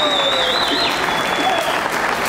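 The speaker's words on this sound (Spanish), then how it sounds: "un fuerte aplauso para ustedes, para nuestra Bolivia" A large crowd at a live concert in Bolivia claps and cheers loudly, a dense continuous wash of applause with some whistles and shouts, filling the space throughout.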